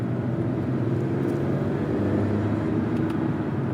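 A 2022 Acura TLX A-Spec SH-AWD's turbocharged engine settles into a low, steady drone as the driver lifts off the throttle, heard from inside the cabin with a quiet, even road rumble beneath it.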